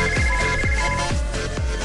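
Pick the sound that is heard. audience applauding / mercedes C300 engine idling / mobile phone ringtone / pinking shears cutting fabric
mobile phone ringtone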